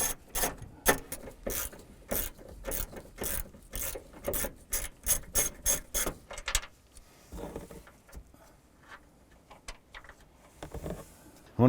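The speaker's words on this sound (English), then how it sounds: "Using a 14mm socket and extension, and go ahead and loosen and remove these nuts." Rapid ratchet clicks in quick bursts, then slower scattered clicks and metallic handling as a 14mm socket wrench with extension works nuts loose on a 2008-2012 Honda Accord rear strut assembly.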